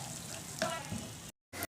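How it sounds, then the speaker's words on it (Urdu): Brain masala fries in a pan while a spoon breaks it up, giving a steady close sizzle with a scrape or clink of the spoon before the sound cuts out briefly. "اب ہم اس کو بھونیں گے تقریباً 10 منٹ تک، اور ساتھ ساتھ چمچ سے اس کو توڑتے رہیں گے"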